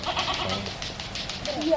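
Goats bleat in a Baloch village in Balochistan, with short bleats over a steady outdoor background and voices talking nearby.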